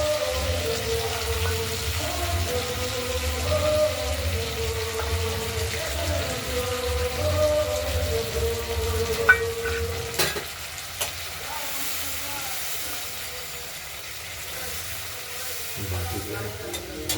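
Spice paste with turmeric is sautéed in a wok for a katla fish curry, loud wet sizzling and scraping stirs that thin out midway, leaving a quieter sizzle with occasional clinks.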